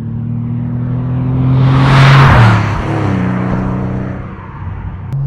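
A 1997 Porsche 993 Carrera 4S sweeps past, its engine revving loudly with a rising then falling pitch as it nears and pulls away, leaving a fading drone.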